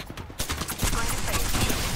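Dense rapid gunfire in the battle royale game Apex Legends, a short burst of close, loud shots blending into a busy wash of combat noise.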